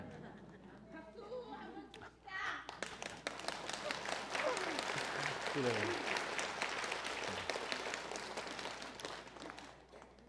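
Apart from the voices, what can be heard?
audience applause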